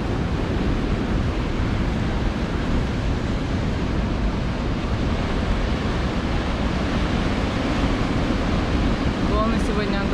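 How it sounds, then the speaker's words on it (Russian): Continuous roar of large ocean surf on Australia's Gold Coast, steady and loud, with wind buffeting the microphone and no voices. "Волны сегодня огромные"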